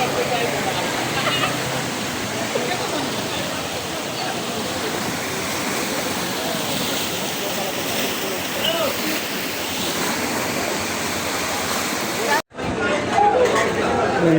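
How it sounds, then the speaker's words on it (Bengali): The Shoilo Propat waterfall in Bandarban, Bangladesh, roars in a constant loud wash, with people talking over it. A brief dip near the end is followed by the roar resuming. "খুব সুন্দর জায়গা, শৈলপ্রপাত ঝর্ণা।"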